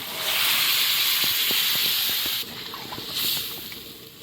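Water poured into a hot cooking pot while fish curry is being made, a loud broadband hiss that holds steady, then drops sharply partway through and flares briefly again before fading.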